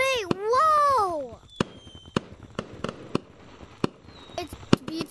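Gorilla Tag video game fireworks: a long rising whistle opens, followed by a run of sharp, evenly spaced bangs and pops, one last whistle and loud burst near the end, with a voice exclaiming briefly.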